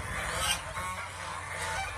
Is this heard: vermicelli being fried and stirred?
no